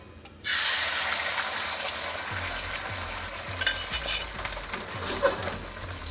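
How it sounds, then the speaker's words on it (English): Eggs crackle and sizzle as they drop into a hot wok on a home stovetop, a loud fry bursting in abruptly and holding steady, with spatula scrapes and clicks against the pan and no talking. "I'm going to throw in my eggs"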